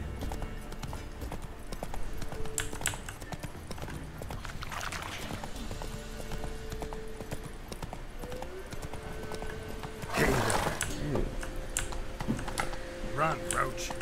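Geralt's horse Roach galloping in The Witcher 3, a fast continuous drumming of hooves through the whole stretch, mixed with game music and a louder burst of rustling midway.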